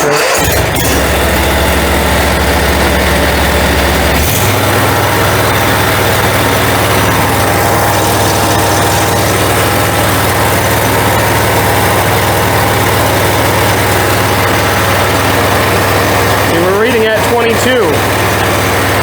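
A Toro Z-Master mower engine, which has a charging fault, idles steadily at close range and drops to a lower throttled-down tone partway through, with a brief clatter near the end.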